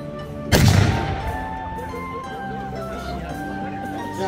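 A cannon fired by a cannoneer at a medieval festival booms once, loud and close, then rings out and fades over the murmur of a crowd.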